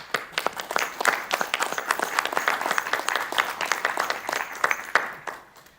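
Lively applause from a crowd at a school board meeting, dense overlapping claps throughout, tapering off slightly at the end.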